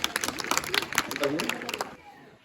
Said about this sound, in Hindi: तालियों के साथ एक बार स्वागत और अभिनंदन।